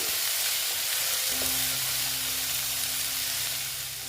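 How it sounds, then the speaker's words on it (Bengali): Potatoes fry in a pan with a constant, dense sizzle that stays loud and even, easing slightly toward the end. "এখন আলুটা আমি ভেজে দিচ্ছি"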